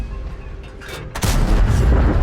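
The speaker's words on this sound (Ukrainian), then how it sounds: "І артилерія починає стріляти." Over a low battlefield rumble in a video game, a heavy artillery blast booms in just past the one-second mark, leaving a loud, rolling roar afterward.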